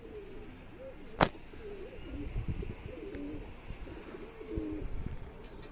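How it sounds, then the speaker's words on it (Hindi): A wild pigeon arrives on a rooftop among other pigeons, soft cooing repeating nearby alongside a sharp, loud flap or snap early on and scattered rustling, with no talking. "ये कबूतर आ रहा है जंगली है"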